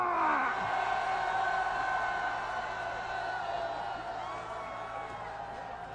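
At a presidential election campaign rally in Daegu, a large outdoor crowd lets out a sustained roar of shouting and cheering, loud at first and gradually easing, a broad wash of many voices.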